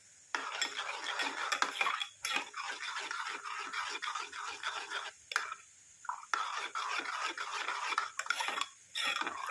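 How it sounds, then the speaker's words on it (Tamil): A spoon scrapes and stirs a thick face-pack style mixture in a small bowl, steady rubbing strokes close up with brief pauses, no voices. "கொஞ்ச நேரம் நல்லா இந்த மாதிரி மிக்ஸ் பண்ணி விட்டுக்கலாம்."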